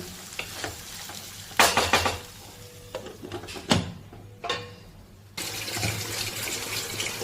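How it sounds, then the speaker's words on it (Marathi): Onion sautés in a pan for a Konkan-style curry of peas, potato, brinjal and drumstick, with bursts of sizzling and scraping stirs broken by short pauses, then a steady frying hiss at close range. "ह्यालाही आता थोडंसं आपण कांदा परतून घेणार"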